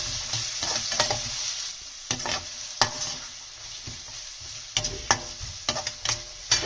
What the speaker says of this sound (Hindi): उसके बाद हम जिंजर गार्लिक पेस्ट को अच्छे से इनके साथ पकाएंगे।